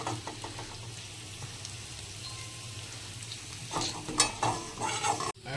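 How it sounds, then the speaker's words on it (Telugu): Onions frying in a pan for biryani, a steady close sizzle with stirring scrapes throughout and louder bursts of crackle near the end. "ఉల్లిగడ్డని ఫ్రై చేసుకుంటే కొద్దిగా గ్రేవీలో మంచి వస్తుంది బిర్యానీకి"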